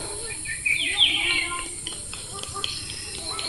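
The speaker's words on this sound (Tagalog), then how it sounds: "huni ng mga ibon" Birdsong in a quiet rural spot beside a flowing stream, with a bright burst of chirping near the start and softer scattered calls over a steady hiss of running water.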